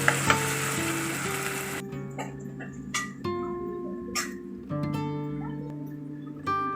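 Green chillies, curry leaves, onions and ginger-garlic paste frying for a traditional drumstick curry, sizzling steadily under repeated stirring and scraping in the pan, with no talk.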